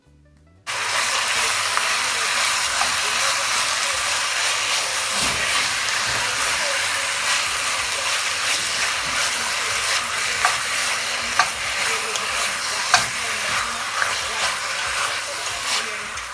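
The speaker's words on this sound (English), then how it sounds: "I'm adding some oil, and I'm gonna brown some sugar and add the beef to it" Sugar browning in hot oil with chunks of beef added for brown stew beef, producing a loud, continuous sizzle close by, with scattered stirring clicks and scrapes and no speech.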